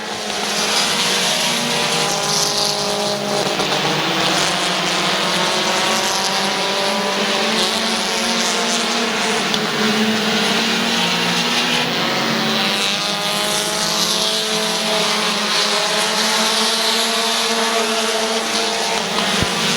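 Race cars roar around Midvale Speedway in a steady, loud, continuous drone of engines, with shifting whines as the pack passes, lasting without a break.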